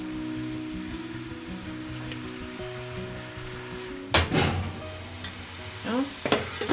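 Pasta water for vegetarian carbonara boils in a pot, a steady bubbling hiss with a low hum behind it, then louder clatters and bangs from the kitchen break in over the last few seconds.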